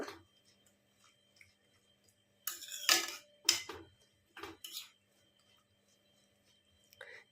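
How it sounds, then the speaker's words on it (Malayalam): Sweet apple pachadi is mixed in a cooking pan over a high flame, with a few short bursts of scraping and clanking from a utensil between quiet pauses. "എല്ലാം കൂടെ ഒന്ന് മിക്സ് ചെയ്യാം"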